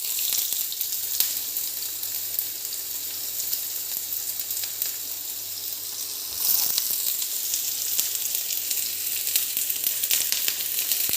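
Chopped onion sizzles in a small amount of oil with a steady, hissing crackle that swells a little louder partway through. It is heard close up and alone.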